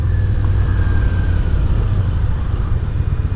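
Steady low rumble of a Yamaha SCR 950 inline-twin motorcycle engine on the move, loud and continuous with wind noise, no talking.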